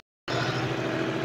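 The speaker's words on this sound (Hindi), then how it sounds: "1600 आरपीएम फिक्स करके इसको चालू करिए ट्रैक्टर को" A John Deere 5305 tractor diesel engine running at a fixed 1600 rpm, starting abruptly after a brief silence into a steady, loud, even rumble.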